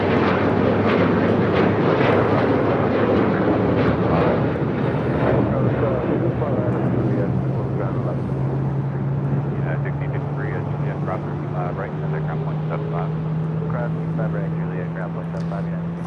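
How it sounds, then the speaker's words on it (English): Delta Boeing 737-900ER taking off at LAX, a loud, near jet roar that fills the air and slowly eases, a rising engine tone drawn out beneath it, with a voice talking over the noise. "Next departure, next takeoff here on the south side is Delta Airlines Flight 811 heading to Miami at 737-900"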